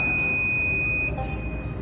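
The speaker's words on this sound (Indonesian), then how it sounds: "kemudian sirene akan menyala dan akan terus menyala sampai si pemilik rumah mematikan secara manual di mobile apps-nya" A smart home security alarm buzzer sounds a loud, steady, high-pitched electronic tone that holds continuously and alone throughout, dropping slightly in level near the end.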